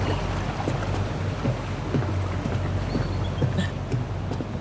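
A boat at a dock in the video game Tell Me Why gives a continuous low engine rumble with a water and wind wash over it, steady and fairly loud, with no speech.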